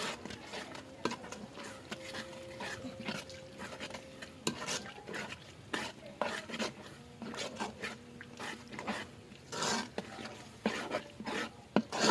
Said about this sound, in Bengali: এগুলা তেলের মধ্যে মিক্স করে নিচ্ছি